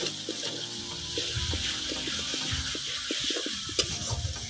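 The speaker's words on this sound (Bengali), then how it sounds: "এটাকে ভালো করে ভেজে নেব 1 মিনিটের মতো।" Garlic paste, tomato and onions sizzle and fry in a hot kadai for a home-style chicken curry, with a steady crackling hiss and repeated scraping stirs of a spatula close by.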